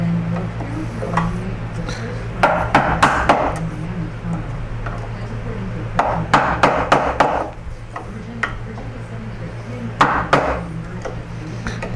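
Chisels cut into the wood of a Chapin highchest leg, each tap and chop a crisp knock arriving in clustered bursts at close range over a low steady hum, with a voice talking in between.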